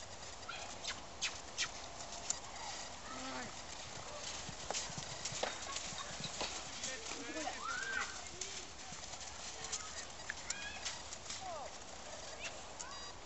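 A mare's hooves clip-clop steadily during a training session, moderately close, with birds and cooing doves in the background and people talking over the hoofbeats.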